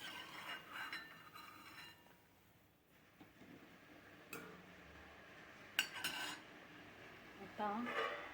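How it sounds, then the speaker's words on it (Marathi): Fried gulab jamun are lifted out of hot oil with a metal utensil, making soft sizzling and intermittent scraping clinks against the pan, fairly quiet and close. "आता हे गुलाबजाम काढून घेऊया। छान सोनेरी कलरवर तळलेले।"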